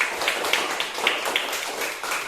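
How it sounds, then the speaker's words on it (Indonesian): Students in an Indonesian classroom clap for a group, a short burst of quick, uneven hand claps close by with a light rhythmic pattern, over about two seconds with no speech. "Jadi tepuk tangan untuk kelompok 2."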